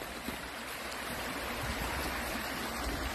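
A water pump pours a steady rushing stream of water into a pond, a continuous loud broadband gush close by with no pauses and no speech.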